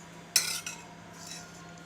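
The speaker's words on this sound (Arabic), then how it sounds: "دلوقتي بقى هنغرفه" Ladle scraping and knocking in a pot of thick lentil soup, one sharp metallic clink followed by softer stirring scrapes, near and fairly quiet, with no voices.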